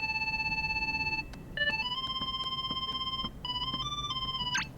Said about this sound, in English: Sora, somebody's calling us on the gummy phone.